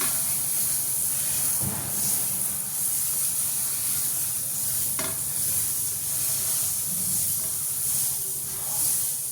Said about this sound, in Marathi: तव्याला आपण बटर व्यवस्थित लावून घेणार आहोत. मस्तपैकी बटर